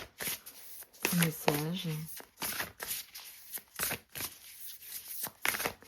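Tarot cards are shuffled and drawn by hand in brisk, papery riffling bursts that repeat close up, with a voice speaking briefly over the handling.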